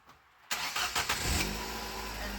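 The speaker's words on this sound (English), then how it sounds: "start up the car, like this" A car engine cranks and catches with a few sharp bursts, then settles into a steady low idle, close by and moderately loud in icy weather, with no talking.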